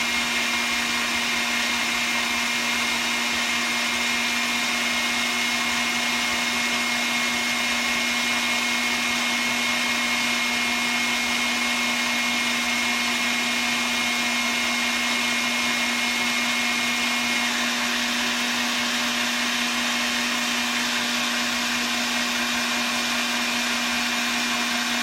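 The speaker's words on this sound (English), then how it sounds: "whipping egg whites is like watching paint dry" An electric mixer whips egg whites in a constant, unbroken whine with a steady motor hum, running alone at a fairly loud, even level throughout.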